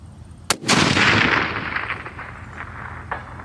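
A rifle firing handloaded ammunition: one sharp, loud shot cracks early and echoes away, followed by a second fainter report near the end, with no talk.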